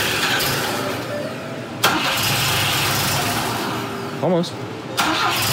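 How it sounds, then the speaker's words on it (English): A Volvo Amazon with a freshly restored B20 engine cranks and catches, then runs at a loud, rough, uneven idle. A voice speaks briefly over the engine noise. "Give it another start and then just let it idle and warm up"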